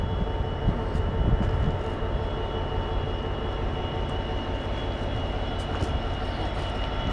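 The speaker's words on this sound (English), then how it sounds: "This train has come in." A train pulling into a station near Didcot or Cholsey, heard as a steady broad rumble with a faint tonal hum and occasional light clicks, constant in level with no talk.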